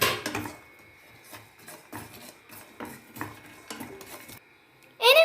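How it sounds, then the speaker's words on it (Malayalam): White sesame seeds stirred into a brinjal curry in a pan, a string of close scraping and clinking spoon strokes against the metal at an uneven pace, ending with a louder clatter. "എടുത്ത് വെച്ച വെളുത്ത എള്ള് ചേർത്ത് കൊടുക്കാം. എന്നിട്ട് അത് നല്ലപോലെ ഒന്ന് മിക്സ് ചെയ്ത് കൊടുക്കണം."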